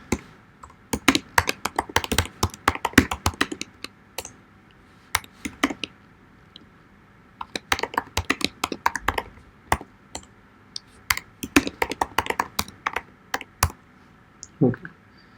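Rapid bursts of typing on a computer keyboard, clustered key clicks in uneven runs with short pauses between them, close and fairly quiet, with no talking over them.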